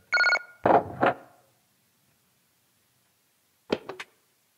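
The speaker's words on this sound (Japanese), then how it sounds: "今回本当によく電話鳴るね" A telephone rings in short, bright electronic bursts, first a quick cluster of rings, then silence, then another brief double ring, with no talking.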